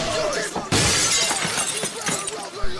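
Glass window shattering in a sudden loud crash that spreads into a bright, crackling spray of breaking shards, with a voice speaking around it.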